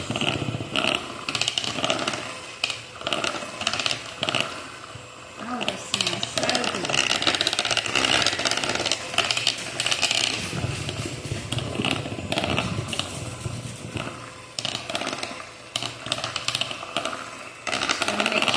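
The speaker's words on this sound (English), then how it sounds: "my hand mixer is losing its charge" A cordless hand mixer whirs steadily through cake batter made with pineapple, bananas, nuts, flour and cake mix, a continuous motor drone with rattling beaters close by, and a voice talking over it at times.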